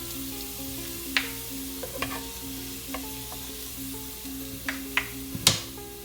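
Garlic frying in a pan for a pancit lomi garnish gives a soft, constant sizzle, with a few sharp scraping and clinking hits from stirring, fairly quiet and close with a faint steady hum beneath.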